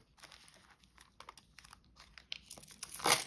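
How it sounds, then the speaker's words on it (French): Paper items being slid back into a small paper envelope, with a run of soft crinkling and rustling that builds to a louder crumple near the end, close by and with no talk. "Ça, je vais pouvoir les remettre dans ma petite enveloppe alimentation."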